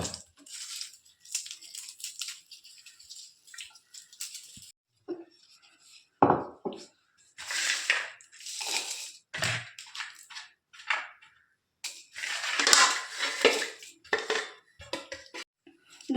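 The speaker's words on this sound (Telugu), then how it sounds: "ఎల్లిపాయ ఇట్లే దంచుకోవాలి చిన్నగా అట్లా" Garlic being crushed with a stone pestle in a stone mortar, coarse pounding bursts of knocks and grinding scrapes coming in irregular clusters with short pauses, close and fairly loud.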